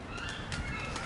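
Pigeons at a churchyard beating their wings in a brief, soft flutter on a windy day, faint and somewhat distant, with no voices.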